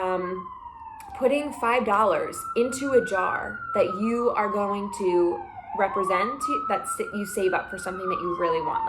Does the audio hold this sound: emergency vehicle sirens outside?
yes